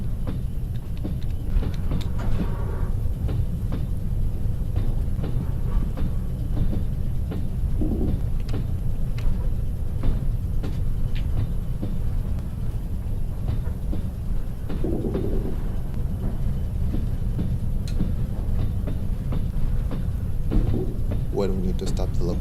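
A VL10 electric locomotive from the Trans-Siberian Railway Simulator game running steadily on the rails, a continuous loud low rumble with scattered clanks and rattles throughout, with speech at points.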